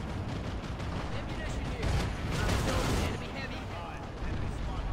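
Rapid gunfire and distant artillery-like blasts from the video game Planetside 2 play continuously, a dense crackle of shots that swells in the middle before easing off.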